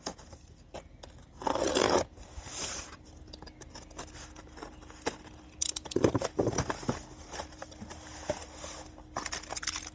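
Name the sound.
cardboard box being opened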